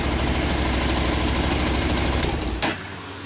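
A 2014 Honda CTX700N motorcycle idles on its stock exhaust, a steady close, even engine rumble with a low throb, which drops off sharply near the end as the engine cuts.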